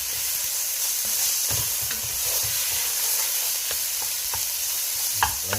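Minced meat sizzles steadily in a hot pan while being stirred and broken up for Kai Si Ming, a constant close frying hiss with intermittent scraping and clacking stir strokes.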